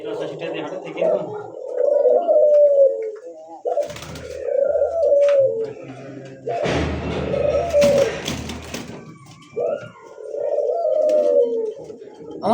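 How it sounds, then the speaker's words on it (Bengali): A diamond dove coos repeatedly in soft, rolling phrases at a pigeon seller's loft, with people talking over and between the calls. "এই যে ঘুঘুটা ডাকতেছে"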